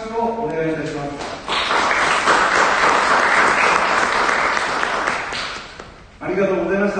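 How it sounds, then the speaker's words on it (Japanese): A party convention crowd breaks into broad, sustained applause to approve an activity plan at a Saga prefectural federation founding meeting, with brief speech before it starts and after it fades. "承認される方の拍手をお願いいたします。"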